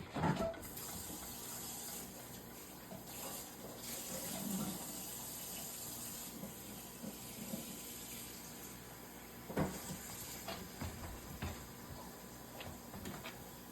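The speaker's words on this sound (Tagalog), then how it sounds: "Lagyan ng tubig." Water poured into a cooking pot of frying noodles and barbecue chicken for Filipino pansit, a continuous hissing, running flow lasting over ten seconds, with a few knocks and clunks of the pot.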